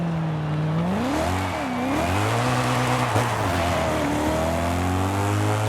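A BMW M3 GTR race car's engine roars steadily near top speed in Forza Horizon 5, loud and close. The tone swells and dips briefly through gear or throttle changes, then settles into a sustained high drone.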